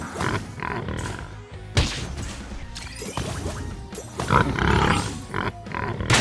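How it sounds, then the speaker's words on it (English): Monster creatures in the video game Honkai growling and grunting like pigs, rough bursts of snarls and roars mixed with game music and crashing effects, moderately loud. "these things are making some noise"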